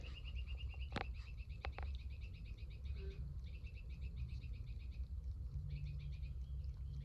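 A faint bird repeats short, high chirping notes in rhythmic runs over a low outdoor rumble, with a few brief clicks, at a beach in dense fog.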